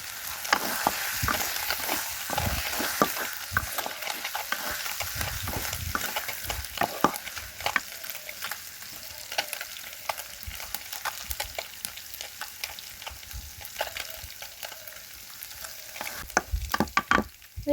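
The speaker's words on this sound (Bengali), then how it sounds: "5 মিনিট পর আবার নাড়িয়ে চাড়িয়ে পোড়া মরিচের গুঁড়া উপর দিয়ে ছিটিয়ে দিব।" Taro leaves frying in a pan with roasted chili powder, a steady crackling sizzle broken by repeated scraping and clattering stirs of a spatula, close and loud throughout with no voices.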